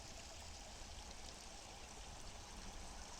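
A waterfall flows in a continuous, even rushing hiss with no pauses or voices, faint and distant in the mix.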